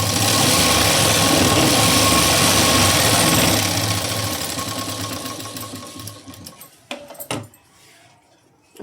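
A sewing machine stitches a work blouse sleeve in a steady, continuous mechanical whir up close. It slows and stops after a few seconds, then a few light clicks and handling sounds follow.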